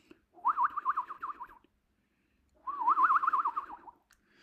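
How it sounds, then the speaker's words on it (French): Two warbling, trilling bird phrases, each about a second long, separated by a short silence, clear and fairly close against a quiet background. "Petits oiseaux, non, parce que j'entends l'oiseau qui fait."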